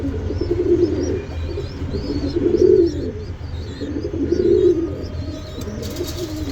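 Silver bezi pigeons in a loft give repeated low, rolling coos in slow pulses, close and fairly loud, with faint chirps above and no voices.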